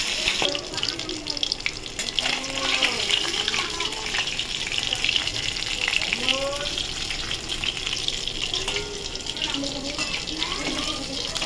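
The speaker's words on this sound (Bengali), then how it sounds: "খুব ভয় লাগে আমার এইসব মাছ ভাজতে। দেখুন ফাটছে" Tangra fish fry in hot oil with a steady broadband sizzle and crackle that runs continuously, joined by scattered sharper pops; someone speaks faintly in the background now and then.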